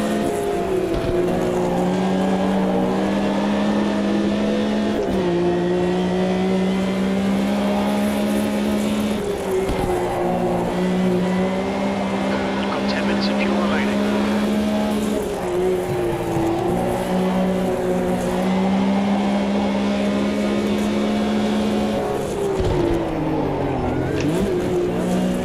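A race car engine in the Automobilista 2 driving sim holds a steady, loud droning tone, rising and falling with throttle and shifts across the whole stretch, close and continuous without talk.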